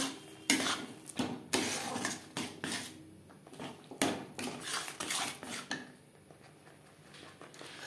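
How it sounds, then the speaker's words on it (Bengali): Spatula scraping and pressing tomato in a metal pan for a vegetarian dish, a series of close clattering, scraping strokes in an irregular rhythm, alone with no talking. "টমেটো একটু এভাবে খুন্তির সাহায্যে ম্যাশ করে দেব।"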